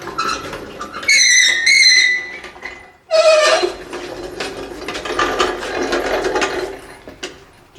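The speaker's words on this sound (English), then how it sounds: "And I'll spin the motor around." Ratchet clicking as a Jeep 4.6 stroker engine built from a 4.0 block is turned over by hand, two bursts of rapid ratcheting clicks followed by softer mechanical rattling in a quiet shop.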